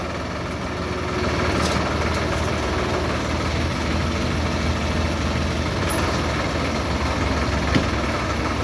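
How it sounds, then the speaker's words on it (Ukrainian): A Solis 50 tractor engine idles steadily throughout, a continuous low rumbling drone with no speech. "Так, трактор заїхав, завантажимо ще плуга і поїде зранку до людей."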